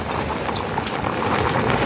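Rain pours steadily, a dense and even close-up hiss with faint patter that lasts the whole stretch, and no voices.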